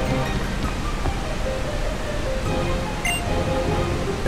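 Steady, broadband rushing water at Meteor Falls in Pokémon Omega Ruby, a constant even roar of falling water with no breaks or voices.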